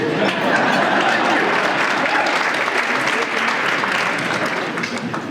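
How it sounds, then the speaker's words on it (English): An audience at a political speaking event applauds and cheers loudly and steadily, a dense wash of clapping and crowd noise that runs unbroken the whole time before easing slightly at the end. "Everyone standing together, cheering for me."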